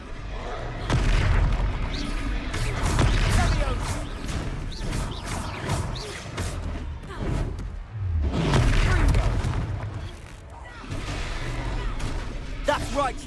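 A Confringo fire spell blasting a troll during a battle in Hogsmeade in Hogwarts Legacy, heard as loud, heavy booms and crashes repeating across the fight, with voices talking over the action.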